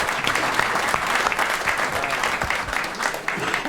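An audience applauds for a panel of four after a theater discussion, with loud, steady, dense clapping throughout.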